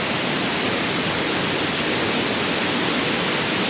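Steady, loud roar of Mae Sa waterfall in Chiang Mai, a dense broadband rush of falling water heard up close, continuous and unbroken with no voices.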